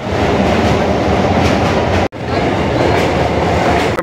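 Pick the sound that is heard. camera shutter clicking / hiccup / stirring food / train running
train running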